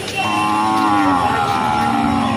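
Cows low at a weekly village cattle and goat market, with one long, loud, close moo that slides in pitch and lasts nearly the whole stretch over a steady murmur of market noise.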